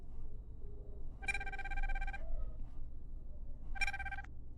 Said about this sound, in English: let's try to answer the call here on the smartwatch